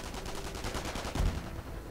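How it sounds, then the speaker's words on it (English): Rapid bursts of .50 caliber machine gun fire in a WWII strategy video game, continuous rattling shots at steady volume with a heavier thump midway, no voices. "Getting suppressed by the 50 caliber machine gun."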